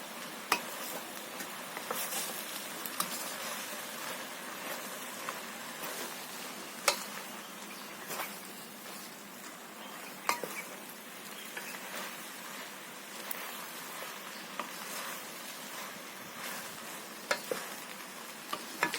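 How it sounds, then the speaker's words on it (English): Vegetable cheese pasta stirred in a pot, giving a soft continuous bubbling hiss with occasional sharp utensil knocks against the pot, close up and with no talking. "Gonna give it a quick stir."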